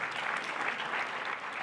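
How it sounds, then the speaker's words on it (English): Studio audience applauds steadily and dense, a continuous even wash of clapping at close range throughout, with no voices over it. "Round of applause"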